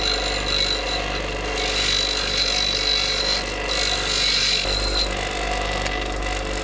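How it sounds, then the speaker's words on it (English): A grinding stone sands a wooden piece for a restored 250-year-old door, producing a steady, loud abrasive whir with a high whine that holds for several seconds and briefly shifts near the end. "You shouldn't use a grinding stone to sand wood, but if you have to, it does a really, really good job"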